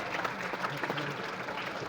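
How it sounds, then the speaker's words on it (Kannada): An audience at an inauguration event claps together, a dense steady patter of many hands heard at a moderate distance, with faint voices mixed in. "ತಾವೆಲ್ಲ ಜೋರ ಚಪ್ಪಾಳೆ ಮೂಲಕ"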